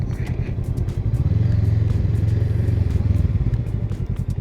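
A motorcycle engine close by during a ride, a steady loud rumble with pulsing clatter and a shift in pitch as it downshifts.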